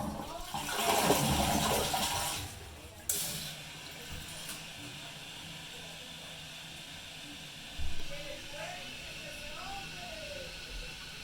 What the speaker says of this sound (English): Alright, let's flush this toilet.